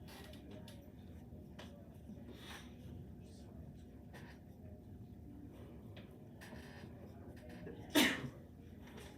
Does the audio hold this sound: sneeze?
yes